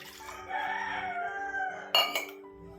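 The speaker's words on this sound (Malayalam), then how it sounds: "ഏത് വീഡിയോ എടുത്താലും കോഴിയുടെ കൂവലാണ്" Rooster crowing nearby in a Kerala kitchen setting, one long drawn-out call ending in a sharp higher burst, over a quiet steady hum.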